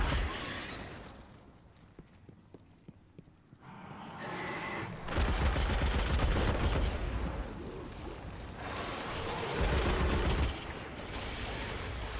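Heavy gunfire in the Destiny video game as Dregs battle Hive at the Shrine of Oryx. A few sparse shots give way to loud, sustained bursts of firing that swell and fade.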